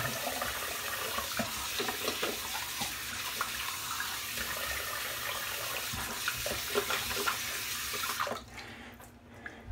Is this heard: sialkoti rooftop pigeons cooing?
no